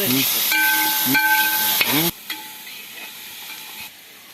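Tomato pieces frying and being stirred in a pan, with a steady loud sizzle and hiss and scraping stirs through the first half, then a quieter, softer sizzle after the stirring stops.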